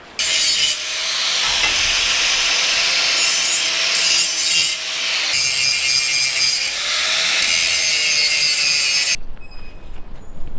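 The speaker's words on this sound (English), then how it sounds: "Right, I'm going to get a grinder and grind this away." Angle grinder grinding metal on a former army truck being converted to a fire truck, a loud continuous rasping whine with shifting pitch as the disc bites, running steadily for about nine seconds before cutting out.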